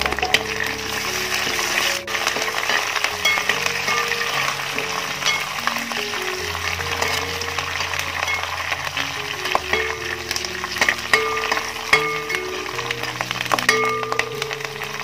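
Garlic and curry leaves fry in oil for a lemon pickle, a steady moderate sizzle running throughout with an underlying hum and occasional faint clinks.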